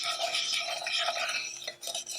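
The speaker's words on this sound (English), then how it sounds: "So I'm using a whisk to try and get that all together." A whisk stirs gingerbread batter in a mixing bowl, producing a steady, close scraping and swishing rhythm against the bowl that continues without pause and briefly softens near the end.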